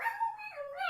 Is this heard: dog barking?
yes